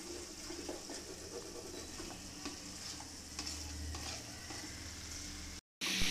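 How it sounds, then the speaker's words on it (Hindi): Spiced masala paste frying and sizzling in a home pan, a steady broadband crackle with occasional stirring scrapes, close and fairly even, cut by a brief silent gap near the end. "मसाला तो भुन रहा है हमारा"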